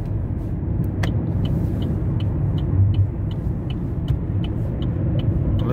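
An Opel Astra J 1.3 CDTI diesel idles in neutral with no load, giving a steady, close, low engine rumble with faint regular ticking on top.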